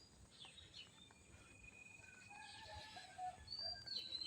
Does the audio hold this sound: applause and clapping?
no